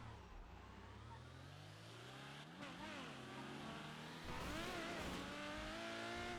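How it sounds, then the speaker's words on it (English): A car engine in GTA V on a NoPixel roleplay server, running through a manual gearbox, revving and climbing through gears with smooth rising and falling pitch sweeps, fairly quiet and steady, with faint talk underneath. "Interesting engine sound to it."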